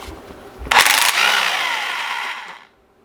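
An air impact wrench hammers on a car engine's crank pulley bolt, a loud close burst of rattling impacts followed by a sustained whirring spin that fades out after about two seconds.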